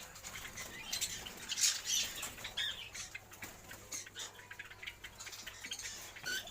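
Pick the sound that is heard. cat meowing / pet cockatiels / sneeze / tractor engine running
pet cockatiels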